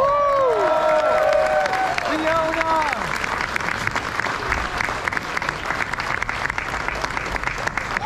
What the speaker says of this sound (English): So please, first, a big round of applause for Fiona Dorf.